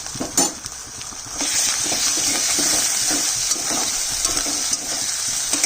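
Browned onion with ground spice paste and tomato frying in a pan, a loud close sizzle swelling after a few stirs, then steady crackling with occasional utensil scrapes.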